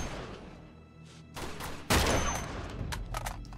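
Rifle fire in the video game Uncharted 2: Among Thieves, with scattered sharp shots, one heavy blast in the middle and several crisp bursts after it, loud and close.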